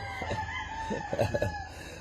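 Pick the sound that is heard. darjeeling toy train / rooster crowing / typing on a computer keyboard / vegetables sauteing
rooster crowing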